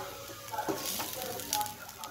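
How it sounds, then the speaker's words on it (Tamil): Onions frying on a gas stove until golden, a steady soft sizzle with a few light scrapes of stirring, close and moderately quiet. "இப்போ கொஞ்சம் லேசாக கேஸ் ஸ்டவ் ஏற்றிட்டு நமக்கு கோல்டன் கலர் ஆகிற வரைக்கும் ஃப்ரை பண்ணிக்கோங்க"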